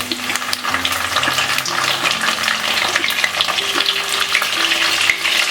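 Tomatoes going into lightly fried onions for a raw-mango chicken dish, a loud steady sizzle with spatula stirring and scraping close up, no voices.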